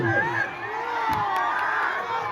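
A large outdoor crowd at a wedding in Karakat roars and cheers at the arrival of Bhojpuri star Pawan Singh, a dense sustained wall of shouting voices with whoops and whistles.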